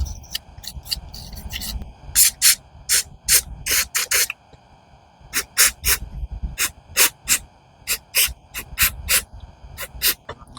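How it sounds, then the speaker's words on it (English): Short sharp hissing blasts of compressed air strike hedge trimmer parts during a repair, fired in quick irregular bursts over a low background hum. "make sure you don't blow compressed air directly to the check valve right here"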